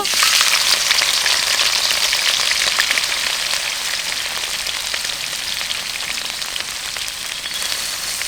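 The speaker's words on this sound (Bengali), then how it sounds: "তেলটা আমার গরম হয়ে গেছে, এই শুটকিটা আমি ভেজে নিব।" Dried fish, shutki, frying in hot oil in a heated wok, a dense, crackling sizzle heard up close that keeps going steadily and eases off slightly toward the end, with no voices.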